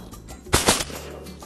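A shotgun fires at a duck during a hunt in Argentina, giving two sharp, quick reports a fraction of a second apart. The shots ring out fairly loud over a quiet outdoor background.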